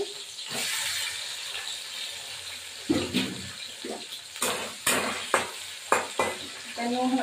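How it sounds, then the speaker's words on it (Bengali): Onion frying in oil for a mutton kosha curry, a loud continuous sizzle close by. Sharp stirring scrapes and clatters cut in repeatedly through the second half. "এবার পেঁয়াজটা ভাজবো।"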